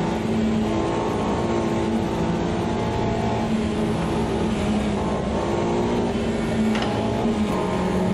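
MINI race car in Automobilista 2 at Le Mans, its engine held at steady high revs in a continuous loud drone with no gear change, a faint whine riding over the throbbing low end.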